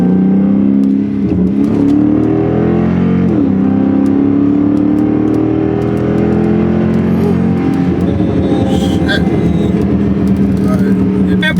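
Tuned Chrysler 300 with a Stage 1 burble tune accelerating hard, heard from inside the car. The loud engine drone climbs in pitch, drops at quick gear shifts from the paddle shifters, then climbs again, with voices faintly underneath.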